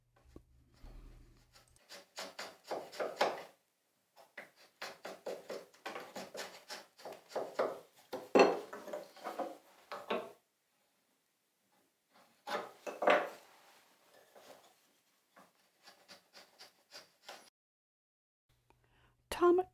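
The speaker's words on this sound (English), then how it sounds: "he trues it up by shaving off very small amounts, very delicately and carefully with a chisel" Delicate hand-chisel paring on wood, shaving tiny amounts to true a surface for a butterfly key: soft scraping strokes in short repeated runs with brief pauses, close and quiet.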